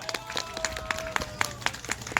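School audience applause at an opening ceremony, a scattered run of individual claps, moderately near and fairly quiet, with faint crowd murmur and a sustained tone underneath.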